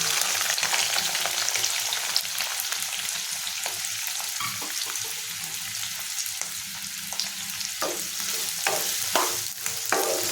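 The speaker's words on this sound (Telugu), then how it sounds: "ఉల్లిపాయలు ఎంత బాగా వేగితే కర్రీ అంత టేస్ట్ ఉంటుంది." Onions and green chillies frying in hot oil in a pan, a steady close sizzle with occasional scraping stir strokes and small pops, continuous and fairly quiet with no talk.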